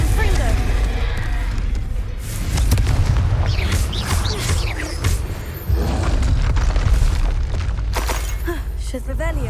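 A Confringo blasting spell explodes in Hogwarts Legacy, a dense run of booming blasts and crackling impacts over steady low rumble, close and loud, with spell voices cast over the action.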